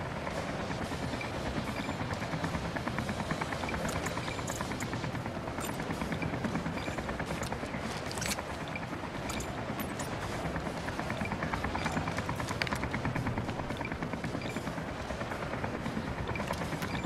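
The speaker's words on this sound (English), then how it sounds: "I reached a helicopter" Helicopter in the video game ZombiU, a steady, dense rotor and engine drone holding at constant loudness for the whole stretch, with faint crackles riding on top.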